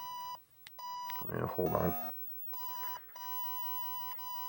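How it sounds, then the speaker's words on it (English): An Atari Video Pinball CPU board sounds a series of short, evenly spaced electronic diagnostic beeps. The beeps are clear and close, with brief gaps between them, and a person speaks over them partway through. "So 8 beeps, and the third beep was bad."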